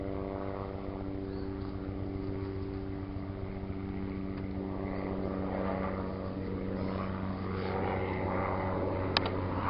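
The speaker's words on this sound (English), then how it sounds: "And there's Mr. Helicopter again." Steady droning rotor and engine hum of a helicopter flying overhead, sustained throughout and growing slightly louder toward the end, with no talking.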